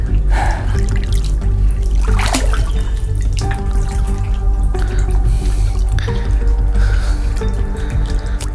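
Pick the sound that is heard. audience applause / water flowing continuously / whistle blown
water flowing continuously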